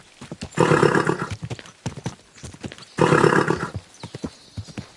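Horse hooves clip-clop in a steady rhythm in Kingdom Come: Deliverance II, broken by two loud whinnying neighs, with the trotting carrying on between and after them.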